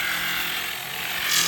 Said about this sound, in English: Grinding tires.